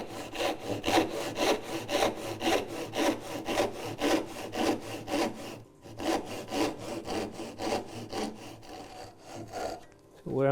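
A hand saw cuts dovetails in wood, the rhythmic rasping strokes back and forth close and clear, pausing briefly midway before resuming at a steady pace.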